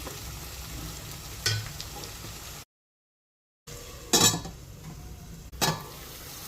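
Potato chips and capsicum fry in a pan with a steady broadband sizzle, interrupted by a few louder stirring scrapes and a brief gap of silence.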